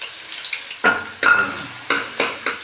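Garlic and ginger dropped into hot oil for a tadka while making kadhi, several sharp sizzling bursts that flare and fade in quick succession, close and clear with no voices.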